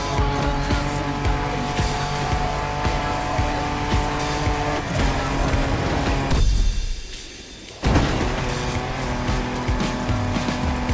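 A car in the racing video game The Crew Motorfest is driven hard off-road, with a loud, continuous engine roar, tyre scrabble and skids. It briefly drops away and then surges back.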